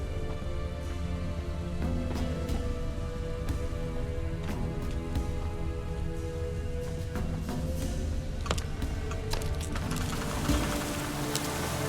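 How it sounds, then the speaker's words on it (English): Steady rain in The Witcher 3 forms a continuous wash of patter with scattered drop ticks, fairly even in level throughout, no voices present. "Looks like rain."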